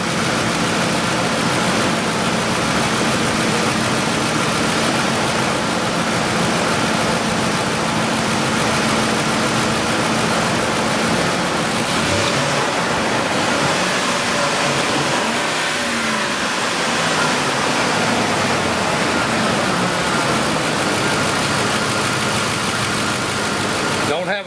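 A 2004 Ford F150 engine idling while still cold during a cam phaser diagnostic, a steady and fairly quiet mechanical rumble that runs unbroken through the whole stretch, close by and without any revving.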